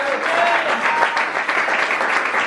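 A church congregation at a French-speaking worship service applauds steadily, a dense, even wash of clapping from many hands with no pauses.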